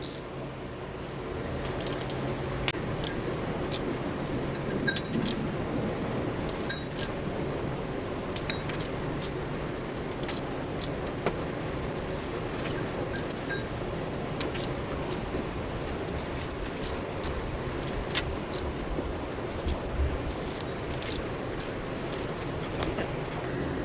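Cylinder head bolts on a 2013 Toyota Venza 2.7L being torqued down with a ratchet: steady clicking of the pawl over a continuous mechanical hum, close and moderately loud, with faint sounds of work in the background.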